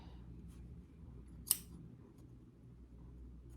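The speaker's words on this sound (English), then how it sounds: "Let's see how to use my tiny scissors here." A single quick snip of small scissors cutting fabric, brief and close, over a low steady background hum.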